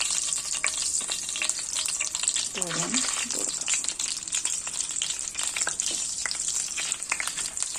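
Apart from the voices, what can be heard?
coconut oil sizzling in pan for shallow-frying egg puffs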